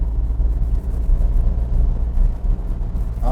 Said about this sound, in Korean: 한번 악셀레터를 조금 싹 밟아 보겠습니다